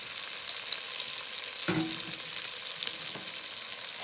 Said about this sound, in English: curry paste needs to be fried off first before you add your other ingredients